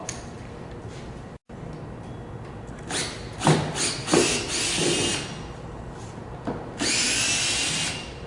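A power drill backs screws out of wall cleats in several short whirring bursts with clicks and handling knocks between them, ending on a longer high-pitched run close by.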